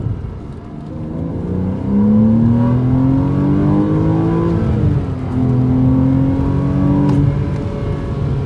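A Porsche Cayman engine droning loudly from inside the car as it accelerates, its pitch climbing smoothly, easing briefly around a gear change, then rising again.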